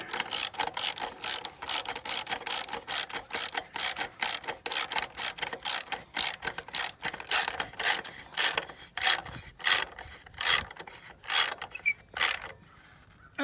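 A clamp on a truck's EGR cooler crossover tube is tightened by hand tool, giving a steady series of close, crisp ratcheting clicks in quick bursts with short pauses, no voices.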